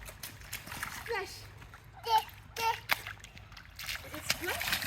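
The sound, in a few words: dog splashing through puddle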